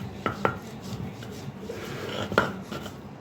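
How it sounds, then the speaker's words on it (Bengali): Fried dried fish and chilies get crushed and rubbed by hand for bhorta, giving soft scraping and rubbing with a few sharper knocks, close and fairly quiet, with no talking. "এখানে শুটকি আগে ভাজা তেলে ভেজে নিয়ে ডলছে, আর এখানে মরিচ ডলছে"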